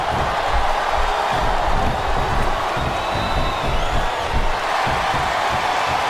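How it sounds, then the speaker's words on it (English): Wrestling arena crowd at a women's Iron Man match, roaring and cheering in a steady, dense wash of noise that holds at the same loud level throughout with no pauses. "I love hearing the crowd come alive"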